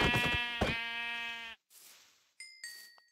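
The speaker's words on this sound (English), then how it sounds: "Oh, a sheep." A sheep in the Minecraft Education Edition video game gives a loud, close, wavering bleat, followed by a short burst of noise and a few small chiming game sounds.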